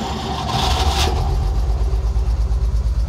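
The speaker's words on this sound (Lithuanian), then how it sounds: "Aš su savo koja prispaudžiu starterį, jisai pradeda sukti variklį ir automobilis vedasi." A GAZ 51A truck engine is cranked with a foot-operated starter, turning over briefly before catching and settling into a steady, rhythmic, throbbing idle heard up close.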